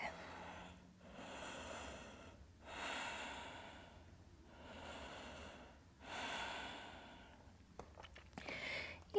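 Slow, audible breaths during a yoga flow, three long inhale-exhale cycles close to the microphone, quiet and steady with a brief rustle at the end.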